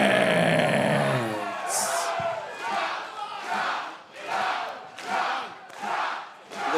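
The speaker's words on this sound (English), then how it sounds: "the sounds of the word chop echoing through the Davis Arena" A large wrestling crowd in the Davis Arena chants the word "chop" over and over, loud, roaring shouts pulsing in a steady repeated rhythm after a burst of general crowd noise.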